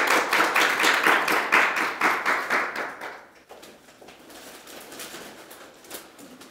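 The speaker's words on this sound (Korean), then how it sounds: "큰 박수 부탁드립니다" At an award ceremony for a university intellectual property paper competition, an audience claps in a fairly rhythmic burst that fades after about three seconds into scattered, quieter claps.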